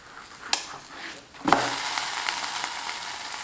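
Oil drizzled onto a pan-cooked egg breakfast pancake of flour batter, which is then flipped, setting off a steady close sizzle after a couple of sharp clicks from the pan and spatula.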